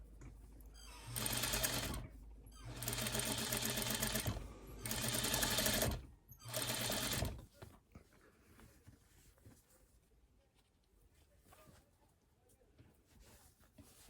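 A sewing machine understitches bias tape in four close, loud runs of rapid whirring stitching separated by short pauses, followed by quieter handling of the fabric.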